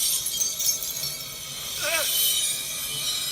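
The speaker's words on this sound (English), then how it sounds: "It's all the glass breaking in the Ministry." A custom lightsaber sound board plays a glass-breaking lockup effect: a loud bright crackling hiss with a short ringing, chirping shard in the middle, and no one speaking over it.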